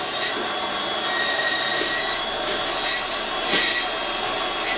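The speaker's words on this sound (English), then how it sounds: "I'm going to just flatten this occlusal surface off a bit" A dental burr grinds down the occlusal surface of a temporary bridge, giving a steady close high-pitched whirring and abrasive grinding with slight swells in pressure and no talking.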